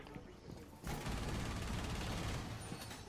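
Sustained gunfire from a Rainbow Six Siege match, a dense fusillade of overlapping shots breaking out suddenly and continuing loud and steady, with quieter scattered activity before it.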